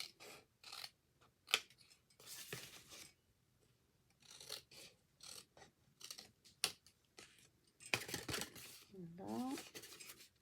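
Scissors cut through card for a stamped gnome box in short, close snips and rasping scrapes, broken by pauses and quiet handling noises, with someone speaking French softly in between.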